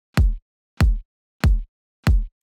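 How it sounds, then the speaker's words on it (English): Four punchy, booming kick drum hits open the drop of a tropical reggaeton track, evenly spaced and heard alone with silence between each, loud and close, followed by a faint fifth hit at the end. "Now for the drop. I start off with a kick."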